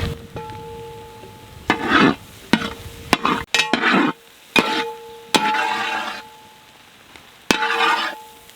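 A utensil stirs fennel seeds, pepper and cumin in a hot pan with intermittent sizzling bursts, several separate strokes, close and fairly loud, no voices.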